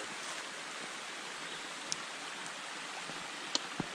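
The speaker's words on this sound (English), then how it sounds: "The water's just pouring down." Water pours down on a rocky mountain trail, a steady broadband rush like a stream, faint and continuous, with a few small clicks near the end.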